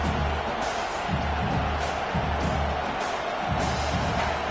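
A football stadium crowd roars continuously on a third down, loud and unbroken, with rhythmic surges of cheering rising above the steady wall of noise.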